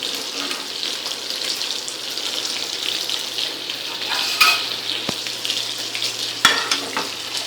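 Fish masala kulambu with fried vanjiram fish simmering in tamarind water in a pan, a steady close bubbling sizzle with a few sharp clinks of a utensil against the pan.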